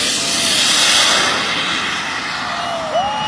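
A loud, steady roar from a radio-controlled model jet with four turbines at full power, a sustained close whine and rush that holds for several seconds with a slight swell and fade.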